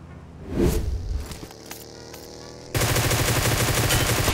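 Shooter video game gunfire: a sharp shot near the start, then scattered pops, and from midway a dense, loud, unbroken burst of automatic fire that continues to the end.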